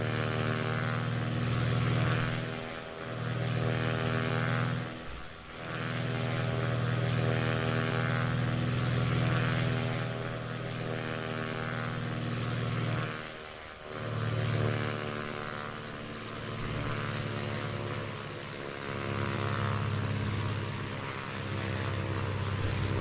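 Steady propeller airplane drone on a Sunday morning flight in California, loud and continuous through the landing, with brief dips and a few bumps as the engine note shifts.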